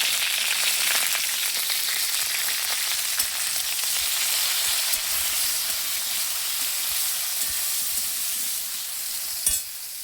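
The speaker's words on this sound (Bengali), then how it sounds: "ভেন্ডি ভাজা ভাজা হোক, তারপরে সর্ষা পোস্ত দেবো" Okra sprinkled with salt and turmeric fries in a pan, giving a loud, dense, continuous hiss and crackle that barely changes, with a single sharper clink near the end and no speech.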